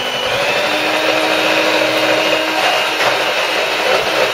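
An old electric mixer whisking flour batter for Yorkshire puddings, a loud continuous motor whine with a steady pitch and a faint rattle, running alone without talk.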